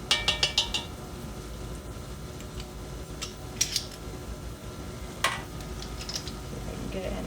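Garlic being scraped and dug out of a metal garlic press in a home kitchen, a run of small clicking, scraping metal taps near the start, then scattered clinks and scrapes at close range over a low steady room background.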